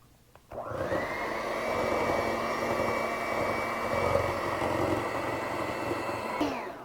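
An electric mixer whips eggnog into cookie icing until fluffy, starting up sharply and then holding a steady, loud whirring motor whine for several seconds before cutting off, close by and with no talking.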